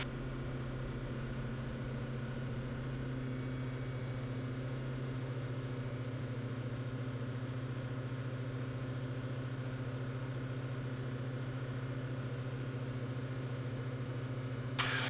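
Light aircraft engine running steadily during the takeoff roll on runway 24, a continuous droning hum heard from inside the cockpit, ending with a brief sharp click.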